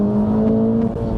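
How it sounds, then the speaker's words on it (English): A 2023 Acura Integra Type S engine revs while the car is driven hard through corners, a brief close-up buzzing engine note that holds steady and then dips. "it's a car you have to rev out to really bring out the power in"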